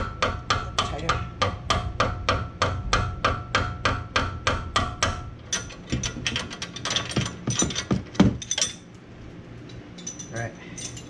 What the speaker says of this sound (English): Hammer it in tighter.